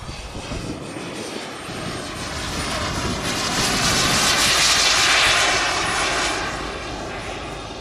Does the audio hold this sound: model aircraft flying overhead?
yes